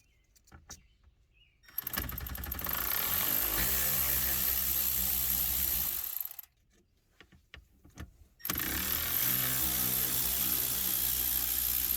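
A power tool fitted with a T20 torque bit drives screws while a Gen4 Linkswell is installed on a 2018 Ram 2500: two sustained, buzzing motor runs separated by a quiet gap, close and loud relative to the background, with no talking.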